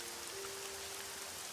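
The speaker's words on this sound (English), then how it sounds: "The rain had become something closer to a squall." Steady, dense rain from a squall in the visual novel Summer Pockets Reflection Blue, a continuous hiss of heavy downpour with a faint tonal hum beneath, no voices.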